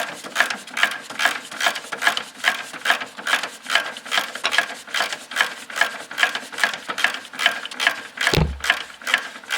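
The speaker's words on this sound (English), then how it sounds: "let me get back in there with the ratchet" Ratchet wrench clicking steadily and close while loosening a sway bar end link nut on a 2007-2012 Hyundai Elantra, a fast repeating rhythm of pawl clicks with a brief thud near the end.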